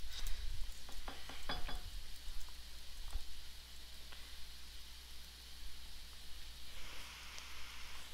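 Plates being washed in the cooking game One-Armed Cook, with a few quick clinks early on over a steady watery hiss that runs throughout and swells slightly toward the end, with no one speaking.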